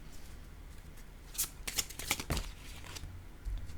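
Playing cards handled and shuffled up close, soft riffling flicks and slides in short irregular bursts, quiet, with no speech.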